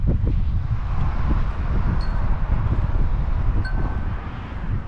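Cold wind blowing at Orange Beach on a January morning, a steady low rumbling buffet against the microphone with faint rustling and a few brief high chirps in the background, no voices.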